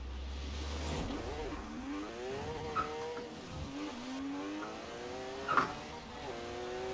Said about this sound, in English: That was actually a surprisingly good wheelie car launch.